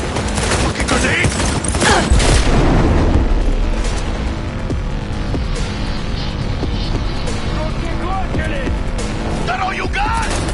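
A grenade explodes during a loud Cyberpunk 2077 firefight, a heavy boom in the first seconds followed by dense gunfire and rumbling blasts that run continuously under shouted voices.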